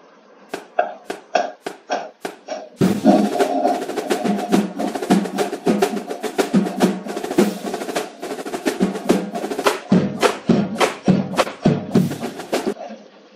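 A brass band's bass drum thumps in a busy rhythmic pattern of sharp, close hits. Sparse strokes open the passage, then dense, driving beats run to the end.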